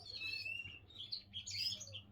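A songbird sings faintly in bright, high chirps and short warbling phrases, heard in two clusters over a low, steady background hum with no talk.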